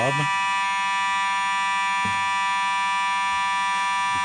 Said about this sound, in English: we're experiencing an alarm here and a fire alarm here at our GPP studios